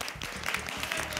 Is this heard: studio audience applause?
yes